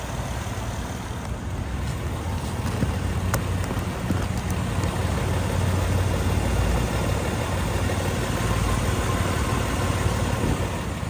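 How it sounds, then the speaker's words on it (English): A 2013 Acura ZDX engine idles steadily after an oil change, a continuous low hum with a faint ticking of valve noise, close and even throughout with no talk. "That's what the engine sounds like."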